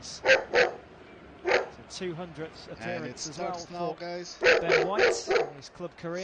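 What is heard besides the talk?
dog barking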